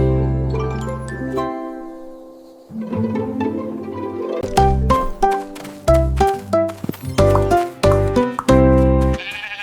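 Sheep bleat several times, loud and close, their wavering calls mixed with a rhythmic musical backing.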